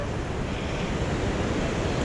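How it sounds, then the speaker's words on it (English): The Dosewallips River rolls along a forested trail in a steady, broadband rushing wash, loud and continuous with no breaks and no voices. "that rolling river"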